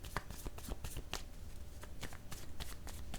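Tarot cards snap and slap down onto a table in a quick run of crisp, close taps and rustles, fairly quiet and without any talking.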